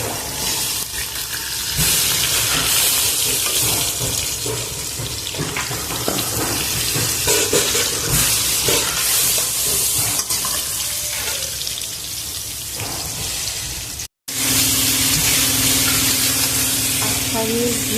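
Fish heads frying in hot oil, a loud steady sizzle and crackle running throughout with a brief cutout near the end.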